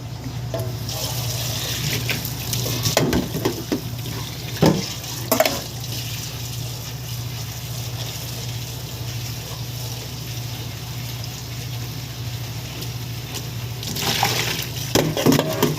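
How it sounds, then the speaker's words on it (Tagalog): Tap water runs steadily while something is rinsed at a sink, a constant moderate splash with brief louder surges and a low hum underneath. "Hugasan na po natin."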